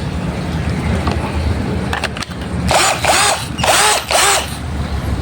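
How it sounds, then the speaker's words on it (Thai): A cordless drill whirs in several short bursts, each pull of the trigger rising and falling in pitch, loud and close over a steady background hum. "เพื่อจะใช้กับสว่านตัวนี้"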